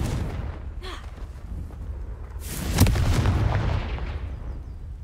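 A Confringo fire spell explodes in the Hogwarts Legacy video game: a faint whoosh followed by a loud, sharp blast that trails off into a rumbling decay.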